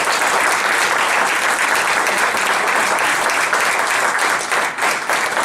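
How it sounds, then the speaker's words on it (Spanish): Loud, sustained applause from a large crowd, many hands clapping continuously at full strength, easing slightly only near the end. "Un nuevo y fuerte aplauso para ellas."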